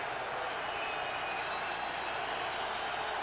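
Football stadium crowd at Virginia's home game against Florida State in 2003, cheering after a touchdown; a dense, steady roar of many voices, loud and continuous, with a broadcast commentator talking over it.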